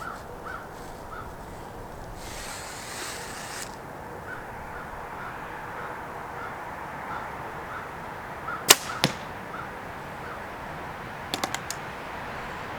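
An arrow shot from a bow outdoors gives a sharp snap followed by a quick second crack, then a rapid cluster of brief clicks later, all over steady wind noise.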